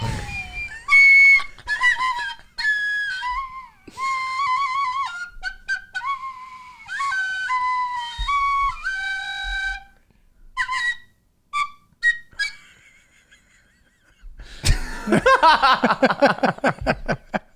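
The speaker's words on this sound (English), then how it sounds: "Okay, so the Irish whistle. I've been working on it a little bit." An Irish tin whistle plays a halting, uneven melody up close, with squeaky overblown notes and pauses, ending in a burst of shrill, breathy tones.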